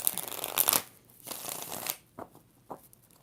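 Tarot cards riffle and shuffle in two bursts, followed by a couple of soft taps as the deck is squared; no talking.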